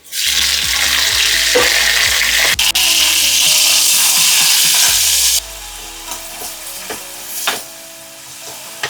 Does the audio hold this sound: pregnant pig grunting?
no